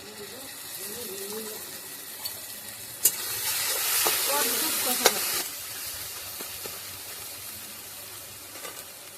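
A spoonful of tomato paste drops into a frying pan of sizzling ginger-garlic paste and is stirred, a steady close sizzle swelling with a louder hiss and a few sharp spoon clinks, with someone talking softly over it.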